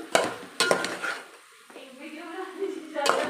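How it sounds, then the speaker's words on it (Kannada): A spoon stirs paneer cubes and large-cut capsicum in a cooking pot with a gentle sizzle, making a few clattering scrapes near the start and end while a voice speaks in between. "ಪನ್ನೀರು ಮತ್ತು ದೊಡ್ಡ ದೊಡ್ಡದಾಗ ಕಟ್ ಮಾಡ್ಕೊಂಡಿರೋ ಕ್ಯಾಪ್ಸಿಕಮ್ ಇವಾಗ ಚೆನ್ನಾಗಿ ಮಿಕ್ಸ್ ಮಾಡ್ಕೋಬೇಕು"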